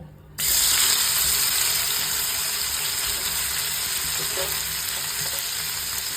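Paneer dropped into hot oil in a wok, bursting into a loud, steady, hissing sizzle that continues unbroken at close range.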